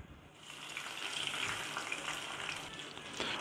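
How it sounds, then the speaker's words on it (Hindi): Onion paste cooking in mustard oil in a kadai makes a quiet, continuous sizzle that slowly swells a little over a few seconds. "उसमें हमने दो टेबल स्पून मस्टर्ड ऑयल लिया है अब इसमें ऐड करते हैं हम लोग प्याज का पेस्ट"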